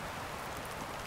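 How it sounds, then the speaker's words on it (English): Rain falls steadily in woodland, making a continuous, even patter and hiss with no other sounds over it. "Sorry, it's raining today."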